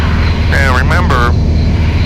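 A small training airplane's propeller engine drones loud and steady in flight throughout, with a brief stretch of cockpit speech over it.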